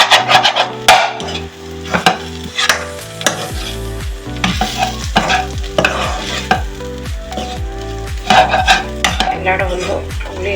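A spatula scrapes and clinks against a pot while onion and chilli masala is stirred, a rhythmic run of knocks and scrapes over a soft sizzle.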